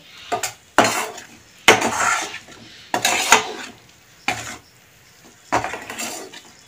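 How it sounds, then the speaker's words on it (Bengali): Potato and soybean are sautéed with spices in a pan in about seven distinct bursts of spoon clatter and scraping against the metal, with short quiet gaps between them and no voices. "মশলার সঙ্গে আমি কষিয়ে নেব।"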